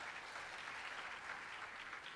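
A church audience at a youth revival service applauds in a continuous, even wash of clapping, faint and distant, with no voices over it.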